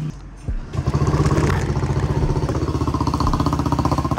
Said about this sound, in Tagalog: Okay, sound check ng my silencer. Ayan, kinabit namin yung silencer.